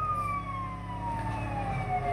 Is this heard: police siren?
yes